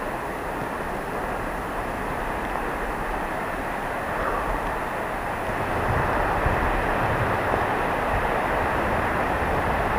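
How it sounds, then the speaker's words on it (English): A steady, dense roar of millions of gallons of water pouring over a dam, broad and continuous throughout, swelling slightly louder midway, with no voices. "That is the sound of millions of gallons of water pouring over the dam."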